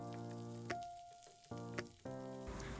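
Onions, green chillies and curry leaves sauté in hot oil for a Tamil kohlrabi poriyal, giving a steady close sizzle broken by a few sharp bursts as ingredients hit the pan or are stirred.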